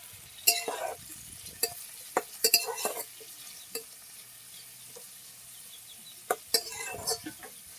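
Onions fry in a pan and are stirred with a utensil, giving a steady low sizzle broken by sharp clinks and scrapes against the metal at irregular moments. No one speaks.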